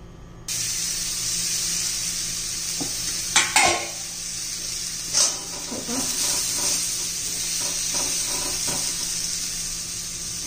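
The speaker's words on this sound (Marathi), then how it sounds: "आपण या फोडी ना परतून घेणार आहोत" Raw banana pieces sauté in oil in a pan with a steady hiss and sizzle, broken by a few sharp scraping stirs close up.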